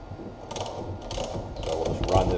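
A nut is turned down a length of threaded rod, working as a makeshift press to pull a wheel bearing into a 260Z rear hub, with repeated soft ratcheting clicks and metallic rasps close by.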